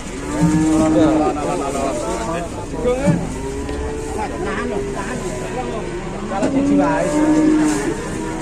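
Several loud, drawn-out cow moos from close by, repeating across the clip over steady engine and road noise, with voices talking in between.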